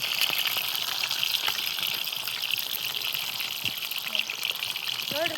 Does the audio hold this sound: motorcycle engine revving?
no